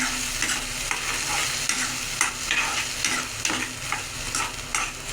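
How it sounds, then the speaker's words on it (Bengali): Spices with turmeric and salt being sautéed in a pan for a Bombay duck fish dish, a close, steady sizzle punctuated by rhythmic scraping stirs every second or so, no talking. "নুন ছিটিয়ে দিলাম এবার আমি কষাবো মশলাগুলোকে"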